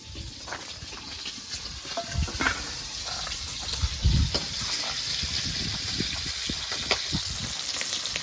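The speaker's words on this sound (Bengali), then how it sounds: "চিংড়ি মাছগুলো ভাজা হয়ে গেছে, এবার নামিয়ে নেব।" Steady bubbling and sizzling of prawns frying in oil, with occasional louder pops and crackles, close by and without talk.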